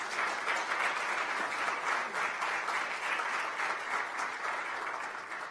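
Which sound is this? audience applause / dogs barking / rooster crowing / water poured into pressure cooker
audience applause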